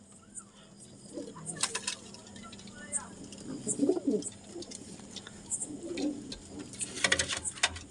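Pigeons coo at a pigeon sale, soft low rolling coos repeating through the scene, with someone talking over them and sharp clicks and rustles nearby.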